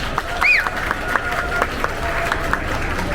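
Wedding guests in a reception hall in Ankara applaud the bride and groom's entrance: steady, dense clapping from a sizeable crowd at moderate distance, with voices and other hall noise mixed in.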